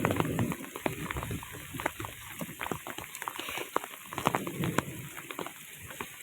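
Heavy monsoon rain pours over flooded farm fields during a thunderstorm, a fairly faint, steady patter with scattered close drips and splashes throughout.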